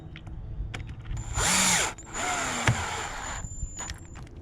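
Power drill with a bit driving fasteners during a Hayward pool filter repair, in short whirring bursts with rising and falling pitch, separated by clicks and handling noises.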